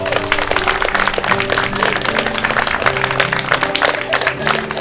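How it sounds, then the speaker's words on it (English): Wedding guests applaud a newly married couple at the ceremony, a steady, loud burst of clapping that runs the whole time while a voice and some music-like tones sit underneath. "And give them another big clap, everyone."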